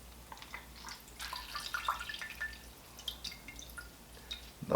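Wet fish skin being rolled and wrung out during tanning, releasing soft, irregular drips and trickles of liquid, quiet and close, with a small splash at the end.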